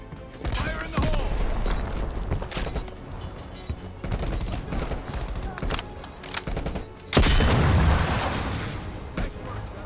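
Grenade explosion and gunfire in Call of Duty: Black Ops Cold War, with dense rattling bursts of rifle and machine-gun fire and one loud deep blast near the end, while voices call out in the battle.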